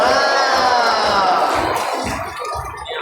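Audience at a dolphin show at Ocean Park cheering and shouting loudly as a crowd, a sustained roar that eases slightly toward the end with scattered clapping beneath.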